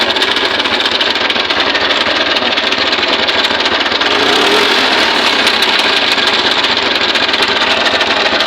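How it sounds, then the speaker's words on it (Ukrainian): A carburetted engine idles on petrol, fitted with a gas reducer taken from a stove, making a loud, steady, rapid mechanical chugging with a slight knock, heard close and continuous without speech. "Оце так працює на холостому ходу, на бензину."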